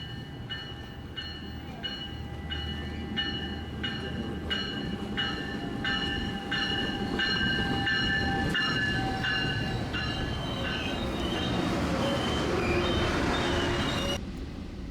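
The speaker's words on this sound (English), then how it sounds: "This is train 373 to LA." A Metrolink San Bernardino Line commuter train rumbles steadily past with a sustained horn-like tonal hum, wheels clacking rhythmically along the track at a moderate distance.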